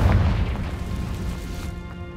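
A Confringo fire spell explodes in the Hogwarts Legacy video game, a single deep boom at the start that decays into a rumbling, fading tail.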